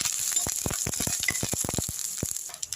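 Beetroot stir-frying in a pan for a Tamil poriyal, a steady close sizzle broken by quick scraping and stirring clicks, with no one talking.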